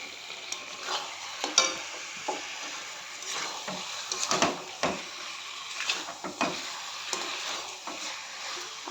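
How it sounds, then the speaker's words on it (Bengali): Chicken pieces for a chicken curry go into a hot pan, with a low sizzle and repeated stirring and scraping knocks of a spoon against the pan, loud at close range. "তো এবার আমি আস্তে আস্তে সব চিকেনগুলো দিয়ে দেবো।"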